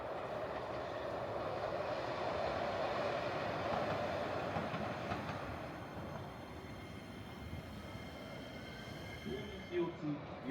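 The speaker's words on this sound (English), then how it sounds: "This lovely maroon train seems to be promoting Nippon Steel's recycling technology" A maroon Ishiyama Sakamoto Line train near Lake Biwa in Japan rumbles past at moderate distance, a steady broadband roll of wheels and motor that fades over the second half before a few brief knocks near the end.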